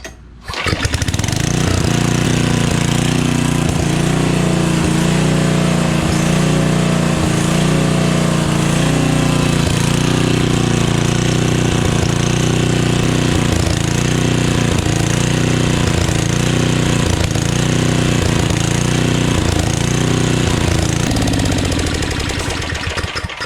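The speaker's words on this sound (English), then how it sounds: "We'll crank our generator again." A small gasoline generator starts up and runs steadily at close range, its engine knocking in a loud, continuous rhythmic chug for the whole stretch, with no talking over it.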